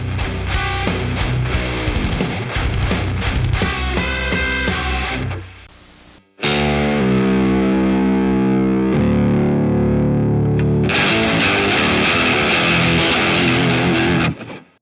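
Heavy distorted electric guitar riffing through a BOSS PolyShifter pitch shifter pedal with a thick, shifted-down tone, breaking off briefly midway before a sustained chord and another loud riff.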